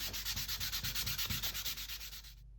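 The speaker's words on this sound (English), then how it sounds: "there's no substitute for just spending time smoothing things out and hand sanding" Rapid, rhythmic back-and-forth strokes of sandpaper rubbing a carved wooden duck decoy body by hand, close and steady, stopping abruptly near the end.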